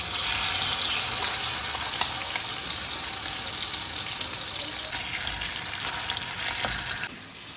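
Chicken and garlic fry steadily in hot coconut oil in a pan for Schezwan fried rice, a continuous close sizzle that drops off abruptly near the end.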